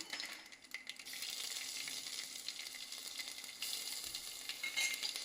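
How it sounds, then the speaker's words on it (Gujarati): Asafoetida and ginger sizzle steadily in hot oil while a khichdi is cooked, a close, continuous frying hiss with small crackles and a brief stir toward the end. "હવે આપણે નાખી દઈશું હિંગ. પછી નાખીશું આદુ,"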